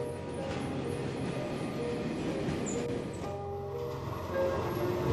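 An East German tram rolls down a steep hill into an old town, giving a steady, fairly close rumble of wheels and motor with faint squeal and rattle throughout.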